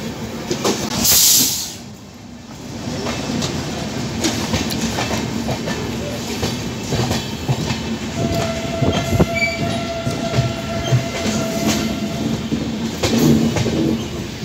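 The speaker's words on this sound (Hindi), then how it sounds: "देखिए ट्रेन लगा हुआ है।" Saharsa Patna Rajya Rani Express passenger train rolling along, heard from on board as a steady rumbling clatter with wheel clicks and a faint distant horn tone midway.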